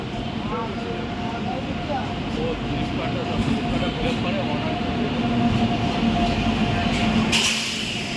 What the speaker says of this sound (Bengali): আমাদের গাড়ি আছে নেতাজি এক্সপ্রেস বর্ধমান থেকে